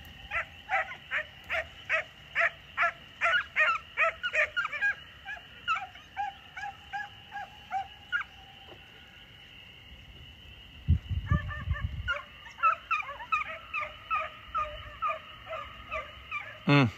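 A pack of hunting dogs barks and yips in rapid, repeated bursts while chasing coyotes inside a pen. The barking is steady and fairly close, a brief lull comes midway, and a low rumble of movement follows before the barking picks up again.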